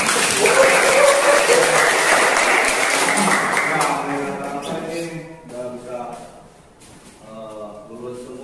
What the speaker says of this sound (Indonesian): Tepuk tangan dulu buat kita semua ya.